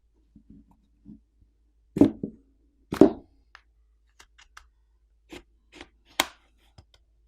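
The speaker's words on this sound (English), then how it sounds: "get a plastic pry tool in between the back housing and the frame of the screen and run it along the edges to pop off the" A plastic pry tool runs along the edges of a Samsung A14 5G back housing, releasing its catches with sharp, isolated snaps and clicks, two louder pops followed by lighter scattered ticks in quiet surroundings.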